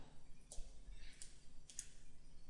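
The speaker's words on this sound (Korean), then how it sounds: "자, 조립품 더블 클릭 복사합니다. 더블 클릭 합니다." A computer mouse clicks during Autodesk Inventor CAD work with a few sharp, quiet clicks spaced over a couple of seconds against a faint low hum.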